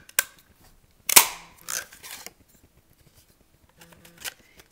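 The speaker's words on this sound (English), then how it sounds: "I will again look for the last little pink and line it up and punch again" A paper border punch snaps through cardstock in several quick, crisp clicks and crunches, with short pauses between the bursts and a softer punch near the end.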